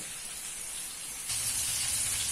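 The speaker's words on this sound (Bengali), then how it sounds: "এইভাবে আমি একে একে সমস্ত চিকেনগুলোকে ভেজে নেব।" Flour-coated chicken pieces frying in a pan for chicken curry, a soft steady sizzle and hiss that swells louder partway through, with no voices.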